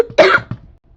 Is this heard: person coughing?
yes